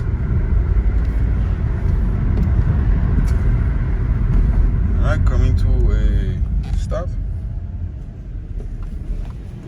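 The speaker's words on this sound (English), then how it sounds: "I want you to see how the engine revs and also how smoothly it shifts" A 2011 BMW 328i engine drones steadily throughout, with a rise and shift around the middle; a voice talks briefly over the loud, continuous engine noise.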